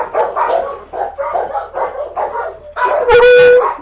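Several dogs at an animal shelter bark and yip in quick overlapping bursts, close and loud, ending with a higher whining howl.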